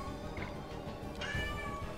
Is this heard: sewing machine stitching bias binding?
no